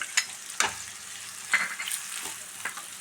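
Garlic, green chillies and onion sizzle in coconut oil in a pan, a soft steady crackle broken by a few louder scrapes and clatters of stirring.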